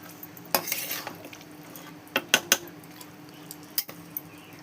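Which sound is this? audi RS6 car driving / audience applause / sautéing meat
sautéing meat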